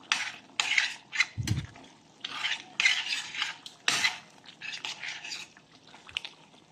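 Spoon stirring dinuguan, a pork blood stew, in a metal pot after seasoning is added: repeated scraping and swishing strokes in an irregular rhythm, close and fairly quiet, with one low thump partway through.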